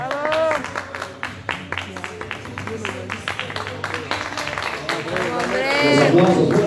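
Loud applause and clapping from a crowd at a Bolivian award ceremony honoring a football club, with voices talking and calling out over the claps and growing louder toward the end.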